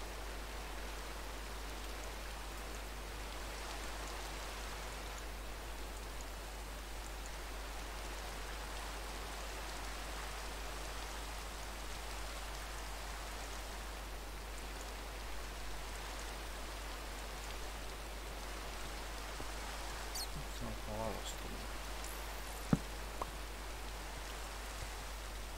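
Steady rain in Minecraft hisses evenly throughout, a soft continuous patter with a low constant hum beneath and a couple of faint clicks near the end.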